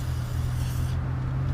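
A spray hisses on dirt around a brake drum nut of a 1984 Honda ATC 200ES three-wheeler, a close airy burst over a low hum that cuts off partway through.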